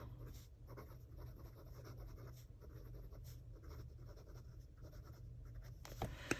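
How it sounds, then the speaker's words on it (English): Pencil writing by hand in a coloring planner, a soft continuous scratching close up and faint, steady with small strokes, with no talking. "I'm just going to write down Doodles and then Scrapbook Pages."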